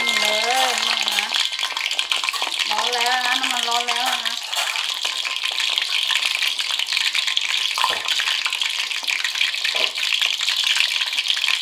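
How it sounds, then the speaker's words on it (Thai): Pork belly deep-fries in hot oil in a pan, held in a strainer basket over medium heat, with a steady close sizzle and crackle running throughout while someone talks over it at the start. "เอาหมูใส่กระชอนอันนี้นะคะแล้วทำการทอดนะคะ"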